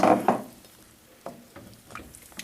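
Stock poured into a pan holding onion and celery for cream of celery soup, a brief splashing gush at the start followed by a few faint stirring clinks and taps.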